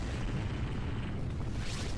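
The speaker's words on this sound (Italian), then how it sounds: "Ehi, vabbè, quante esplosioni!" A dense, rumbling roar of cartoon explosions from an Animation vs. Minecraft animation fills the whole clip, loud and continuous, with a brighter burst near the end.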